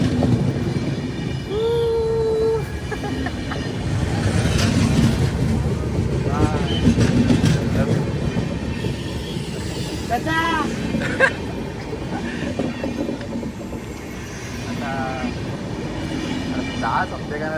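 A train passing on the railway near a waterfall at Khopoli in the Sahyadri hills, a steady loud rumble that lasts throughout, overlaid with people talking and calling nearby.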